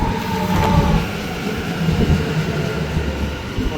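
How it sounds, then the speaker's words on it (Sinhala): A passenger train in Melbourne, Australia, runs along the track with a loud, continuous rumble and rattling, close by and without any voices. "මේ යංගෝ ට්‍රේන් එකේ දෙනවා ඔයාලට වීඩියෝ එක කරන්න"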